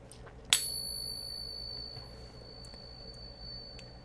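Silver Morgan dollar coin struck during a ring test, giving one sharp tap followed by a clear, high, sustained metallic ring that slowly fades over quiet room noise, no speech.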